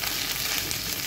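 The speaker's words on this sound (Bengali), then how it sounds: "ভাজা পেঁয়াজের মধ্যে এখন আমি সামান্য পরিমাণ আদা বাটা দিয়ে দিচ্ছি" Ginger paste frying with fried onions, cinnamon and ghee in a pan, giving a loud, steady, close sizzle with no talking.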